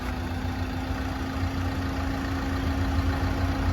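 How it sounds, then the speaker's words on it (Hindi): A car engine idles steadily with the air conditioning running, after about 200,000 km of use. It is a constant, close hum with a low rumble and no talking. "इंजन साउंड आप देख लो कि एसी ऑन होने के बाद कितनी है।"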